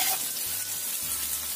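Chilies hit a hot pan of garlic that is already frying, setting off a loud, steady sizzle with a faint stirring scrape and a low hum underneath.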